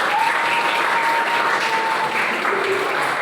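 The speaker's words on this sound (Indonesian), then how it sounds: "Tepuk tangan." A room full of people claps together in dense, steady applause that holds at an even level throughout.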